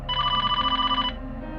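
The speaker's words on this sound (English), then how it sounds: "The phone at the front ticket desk was ringing." A telephone rings at a theater's front ticket desk late at night, a single loud electronic trill lasting about a second that then fades, with no voices.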